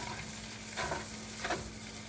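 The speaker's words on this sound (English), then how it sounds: "We are going to stir that all around." Pad thai fries in a hot pan with a faint steady sizzle, broken by two soft scraping strokes of a spatula, quiet and close, with no talk.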